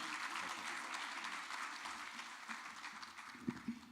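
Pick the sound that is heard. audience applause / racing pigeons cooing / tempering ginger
audience applause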